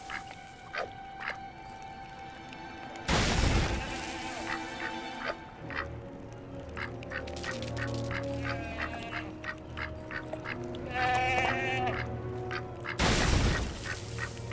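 A duck-headed character in the LEGO The Hobbit video game gives a string of short, honking quacks, with louder bursts standing out over steady game music and ambience.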